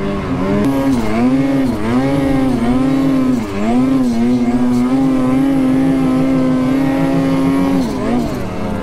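A Lynx 146 snowmobile running through deep snow in the mountains north of Revelstoke gives a loud, close, sustained engine drone that holds steady, with brief dips in pitch near the middle and the end.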